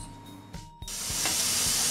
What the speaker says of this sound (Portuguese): A panela já pegou pressão